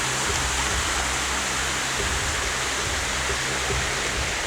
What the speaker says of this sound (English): see the creek.